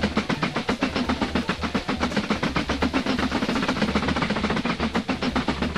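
A passenger train riding along in the railway simulation game Mashinky, with a loud, continuous clickety-clack of wheels over rail joints in a fast, steady rhythm and a low engine rumble beneath, no talking.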